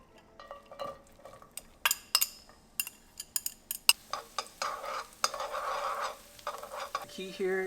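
Garlic and shallots cooking in hot oil in a pan, heard as a soft sizzle under repeated sharp clinks and scrapes of a utensil stirring against the pan, close and irregular.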